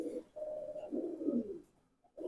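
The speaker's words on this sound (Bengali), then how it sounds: "ডিপ ব্লু চোখের পাঙ্কি কবুতর, তোতা ফেসের" Soft, low coos of Jabra Jelly Pankhi pigeons, a couple of rolling calls close by, followed by a short pause and another coo starting at the end.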